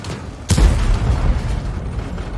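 A 105 leFH18B2 artillery gun in a tank video game fires a shell: one sharp, loud boom followed by a low rumbling tail that fades over the next two seconds.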